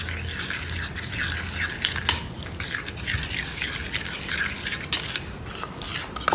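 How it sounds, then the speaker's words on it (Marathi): A turmeric paste mixed with a little water is stirred and rubbed in a small container, giving soft wet scraping and light clinks, close and fairly quiet. "थोडंसं पाणी ऍड करून हे सगळं घोळून घ्यायचं आहे मिश्रण"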